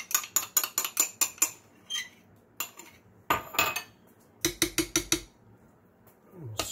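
Tomato paste scraped out of a metal can with a utensil, several quick bursts of rapid metallic clinks and scrapes separated by short pauses, close and fairly loud.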